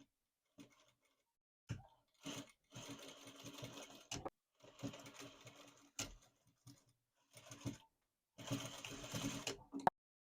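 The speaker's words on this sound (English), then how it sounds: "Now that I've serged these 3 pieces, I'm going to serge them all together to create the checkerboard" A serger overlock machine stitches fabric pieces for a checkered T-shirt dress in several close, steady whirring bursts separated by short pauses, with small ticks and clicks between runs and no talking.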